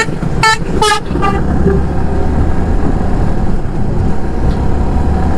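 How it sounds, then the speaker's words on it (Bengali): A group of motorbikes rides together on a dusty road between Madhabpur and Habiganj, making a steady, loud engine and road roar. A few short horn toots sound near the start. "অনেকগুলো বাইকার মিলে একসাথে যাচ্ছি"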